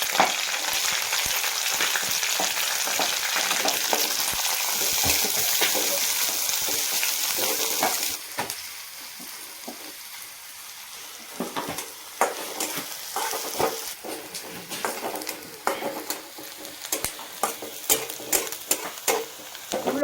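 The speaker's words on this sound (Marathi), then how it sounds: "थोडासा कांदा परतून घेऊ आपण याच्यात" Onion being sautéed in a pan for a traditional village-style chighor leaf vegetable: a strong sizzle at first, then a quieter hiss under repeated scraping and clattering strokes of a spoon against the pan, with no voices.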